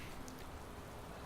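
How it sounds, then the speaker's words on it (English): Steady rain falls during a race in the Motorsport Manager racing game, a dense, even hiss of raindrops with no talk over it. "and it's raining"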